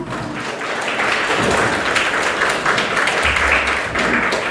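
Crowd clapping steadily through a Simon-says-style group game at a Vishwakarma Day gathering in Faridabad, a dense, sustained patter of many hands, fairly loud, with a little chatter mixed in.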